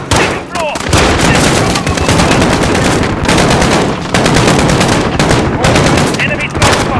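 Sustained rapid gunfire from snipers and automatic weapons in a Modern Warfare match set around a bookshop, with dense bursts of loud, overlapping shots and a few brief pauses, close and harsh.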